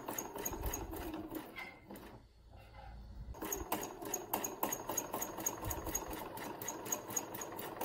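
Sewing machine doing free-motion stitching with green thread on a fibre-art piece, rapid rattling needle pulses running close and steady, stopping for about a second before starting again.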